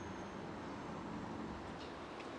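A train rumbles across a bridge at night in Ochanomizu, Tokyo, a dense, steady roar of wheels on track heard from a distance with no break, and a faint high whine above it.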